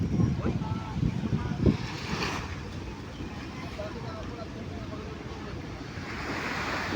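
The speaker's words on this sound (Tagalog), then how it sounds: "Medyo malakas yung hangin" Strong wind buffets the microphone with a constant low rumble on an El Nido, Palawan beachfront, while surf washes in the background; a few faint voices are audible.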